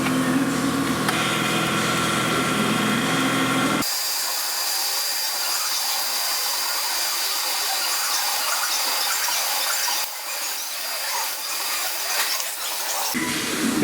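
A 3.2 mm bit drills a pilot hole for an M4 tap while a cylinder is being made, a steady whirring machine drone with a lower motor hum at the start and a brief dip near the end.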